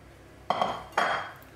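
Crab, chives and garlic stirred together in a bowl for crab cannelés, giving two distinct bursts of scraping and clinking utensil sounds, close and moderately loud, with no talk.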